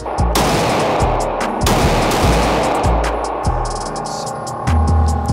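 Rapid, loud pistol gunshots from a Glock 19 MOS at a shooting range, a dense volley of closely spaced cracks and booms running throughout with little pause between shots.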